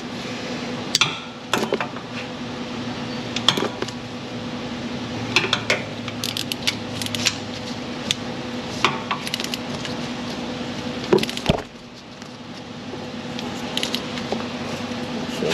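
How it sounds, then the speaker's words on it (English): A wrench and 10 mm socket tightening exhaust fasteners and heat shield hardware under a Ram 1500 5.7, with sparse quiet metallic clicks and clanks scattered over a low background hum. "let's go back with a wrench and hit the remainder of these fasteners here"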